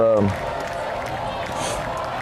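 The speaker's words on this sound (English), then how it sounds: "The home crowd's fired up." Home crowd at a high school football game cheers and applauds in a steady wash of noise, while a commentator's voice is heard briefly at the start.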